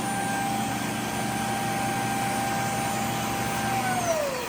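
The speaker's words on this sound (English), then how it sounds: "That is so much better than the old vacuum we had." A new vacuum cleaner runs loudly and steadily for several seconds, its constant motor whine close and unbroken, dropping slightly in pitch near the end as it begins to wind down.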